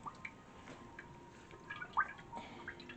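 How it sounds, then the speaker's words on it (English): Melted soy wax mixture poured into a concrete candle jar: quiet, sparse liquid drips and small gurgles against a faint hiss, with a slightly louder splash near the end. "So we're just going to go ahead and pour it in now."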